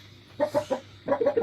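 A rooster gives two short bursts of rapid, throaty clucking calls, close and moderately loud, separated by a brief pause, with no talking.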